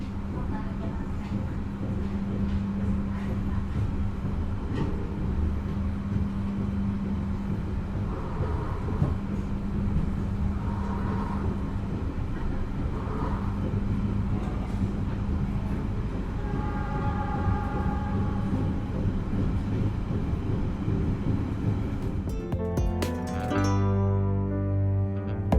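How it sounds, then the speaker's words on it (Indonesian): Kertajaya passenger train running on rails at up to 100 km/h, heard from inside as a steady, loud low rumble with faint rhythmic rail noise, continuous throughout and rising toward the end. "untuk kereta api Kertajaya ini hanya dipacu sampai dengan kecepatan 100 km per jam"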